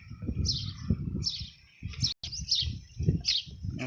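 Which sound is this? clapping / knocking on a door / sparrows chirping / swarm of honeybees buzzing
sparrows chirping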